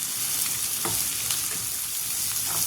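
Crushed green chilli and plenty of garlic frying in hot oil over high heat, a steady, dense sizzle with faint crackles throughout, close by and with no talking.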